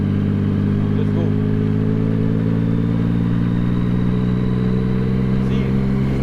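A motorcycle engine pulls steadily and loudly up close in third gear, holding a droning, even pitch throughout.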